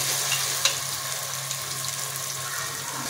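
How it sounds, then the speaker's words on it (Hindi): Spice masala frying with onions for a chicken tandoori gravy, a dense continuous sizzle up close with a single brief utensil clink early on and no speech. "मसाले को अच्छे से भूनेंगे हम।"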